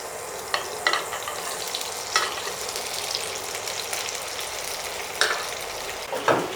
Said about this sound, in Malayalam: എണ്ണ ചൂടായി കഴിയുമ്പോഴത്തേക്കും വെണ്ടയ്ക്കയും കുറച്ച് ഉപ്പും കൂടെ ചേർത്തിട്ട് ഒരു 5 മിനിറ്റ് നമുക്ക്